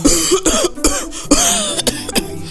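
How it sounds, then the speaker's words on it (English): Repeated harsh coughs in quick succession, loud and close, with throaty rasping between them. "He was coughing louder than a trotro engine."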